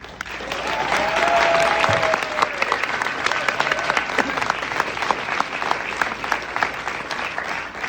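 Audience applauding at a Tribeca Film Festival animated shorts screening, sustained dense clapping throughout, with faint voices underneath.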